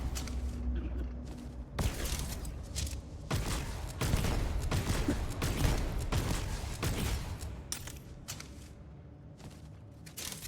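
Rapid bursts of gunfire from a firefight in the space game Starfield, several volleys in quick succession at moderate loudness, with the shots dense for the first few seconds and then thinning out toward the end.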